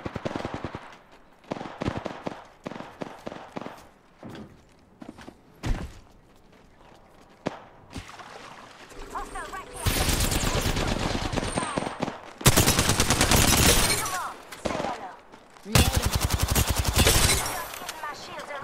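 Apex Legends gunfire: scattered single shots and short bursts early on, then long loud sustained automatic fire in several stretches, with footsteps and game voices talking in between.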